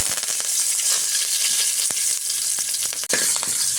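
Curry leaves dropped into hot oil with mustard seeds and fenugreek for a jackfruit seed sambar, giving a loud, steady sizzle and crackle with sharp pops throughout, close and without talk.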